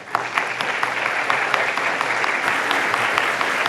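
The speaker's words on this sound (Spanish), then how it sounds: "Este aplauso que estás escuchando del auditorio es en reconocimiento a tu ponencia." Auditorium audience applauds a speaker after a talk on the future of labour inspection, steady close clapping with sharp individual claps standing out, sustained throughout.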